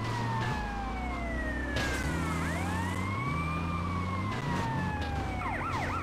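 An ambulance siren wails in the video game GTA Liberty City Stories, rising and falling sweeps that switch to a rapid yelp near the end, loud over a low engine drone.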